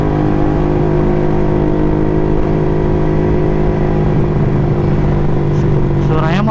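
A motorcycle engine running loud and close on a night ride in Indonesia, a constant droning hum with a rising rev near the end.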